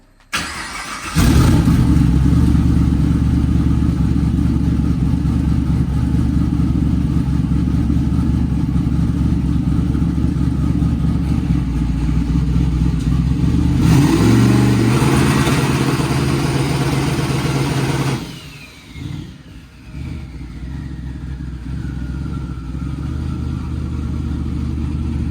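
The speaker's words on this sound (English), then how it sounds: "Notice how much quieter the car is. That's with the full exhaust." A turbocharged car on nitrous with a full exhaust idles loud and steady, rises briefly in a rev, then drops away as the engine note dies off near the end.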